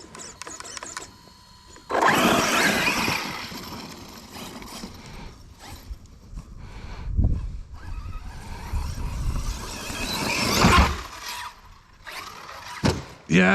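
An Arrma Notorious V6 6s RC car's electric motor is driven under throttle, giving loud whining, grinding mechanical bursts that surge and fade over several seconds, with no talking.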